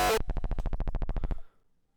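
Roland 909 kick for hardstyle without any low-end boost: about thirteen quick, evenly spaced hits in a steady roll, clear and punchy but thinner in the bottom, then a short decaying tail into near silence.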